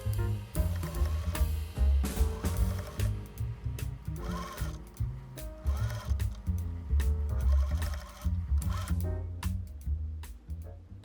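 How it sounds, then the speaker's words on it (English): A sewing machine stitches the brim onto a newsboy cap in rapid, busy bursts of mechanical chatter, each run pausing briefly before starting again, close and steady. "Then I'm going to start sewing from the center, then sew the half of the brim first."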